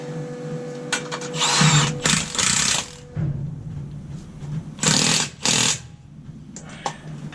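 A Milwaukee M18 3/4-inch cordless impact gun spins a nut onto a truck during repairs, sounding in several short, loud, rattling bursts separated by pauses and quieter handling noise.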